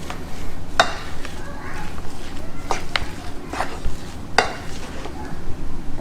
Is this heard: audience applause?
no